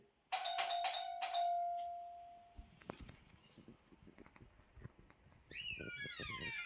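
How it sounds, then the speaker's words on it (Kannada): A doorbell chimes near the start with a couple of bright tones that ring out and fade, followed by quieter movement noises and a burst of high chirping toward the end, during a film-making session. "ಬೆಲ್."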